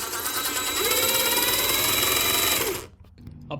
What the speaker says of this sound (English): So I'm going to be drilling fully in.